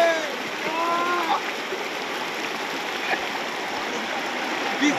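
Fast-flowing stream water at an eco park rushes in a steady, broad hiss and gurgle that stays loud and unbroken throughout, with no voices over it.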